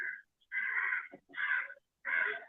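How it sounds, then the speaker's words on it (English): A crow caws three times in a steady series, each call harsh and drawn out with short gaps between, fairly clear against an otherwise quiet background. "Is that a crow in the background?"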